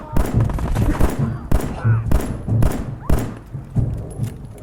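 Repeated gunfire in the video game Fallout 4, a run of heavy thumping shots at a steady rhythm over continuous game sound, loud and close throughout.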